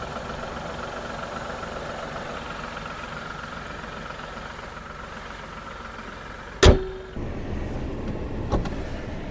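A Tata Punch's Revotron 1.2 litre petrol engine idles steadily under the open bonnet, a continuous even hum, before a sharp clunk and a brief higher-pitched mechanical tone interrupt it near the end.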